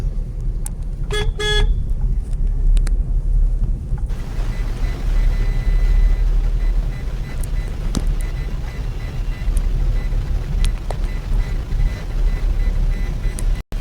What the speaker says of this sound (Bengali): হ্যাঁ সোজা রাস্তা হর্ন দিন।